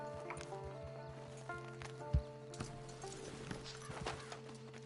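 Horse hooves in Red Dead Redemption 2 clip-clop at an even walking pace, faint and steady, with a few soft thuds and a low ambient hum underneath.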